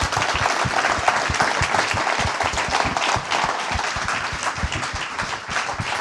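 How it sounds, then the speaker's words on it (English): A room full of people gives a round of applause after a talk at a Torah teaching gathering, dense and even clapping held at a steady level from start to finish. "We can give him a round of applause"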